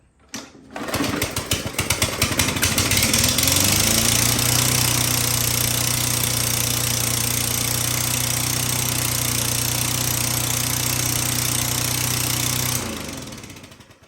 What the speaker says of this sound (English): we have a hole in a muffler or something that's a little too excessively loud for me